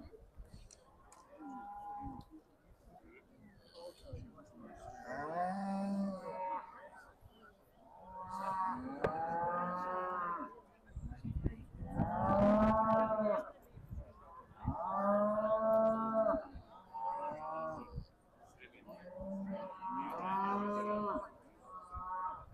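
Beef Shorthorn cattle moo repeatedly during show judging at the Royal Highland Show. The long, drawn-out calls come in a series at moderate distance, with faint crowd and voice sounds between them.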